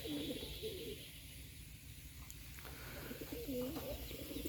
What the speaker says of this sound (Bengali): দেখুন বোম্বাই কবুতরগুলো অনেক সুন্দর দেখা যাচ্ছে